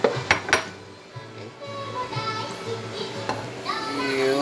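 Cooked ramen noodles go into a bowl with clinks of utensils against dishware, a few sharp knocks at the start, while voices talk over the handling.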